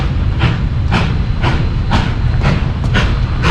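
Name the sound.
Durango Silverton railroad train passing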